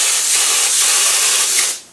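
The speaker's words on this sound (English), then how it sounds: "As you're spraying, you can see it absorbing into the material, which is a good thing." Spray glue hisses steadily from an aerosol can onto vinyl material in a wiper motor cover repair, a loud, close, continuous spray that cuts off near the end.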